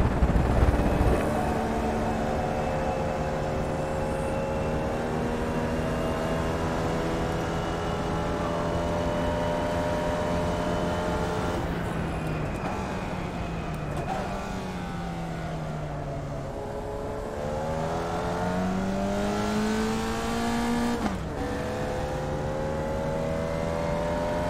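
A Formula Vee race car in iRacing takes a victory lap at Oulton Park, its engine droning steadily and loudly throughout, with pitch dipping and climbing as it lifts off and accelerates through corners. No one speaks.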